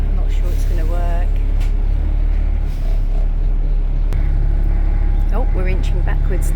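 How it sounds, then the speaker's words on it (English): A bus engine idles and rumbles low and close while the vehicle inches around a parked car in a narrow road, a steady heavy drone with voices talking over it. "The bus driver's trying to inch around, but there's a car right there."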